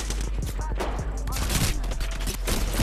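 Rapid shotgun fire and other weapon blasts in a shooter video game come as dense, loud bursts over continuous game noise, with a voice faintly mixed in.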